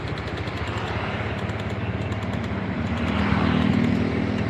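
A motorcycle engine that was recently rebuilt after an overhaul, with a damaged connecting rod and oil not reaching it, idles close up in a steady rapid chug that swells slightly louder near the end, with no talk.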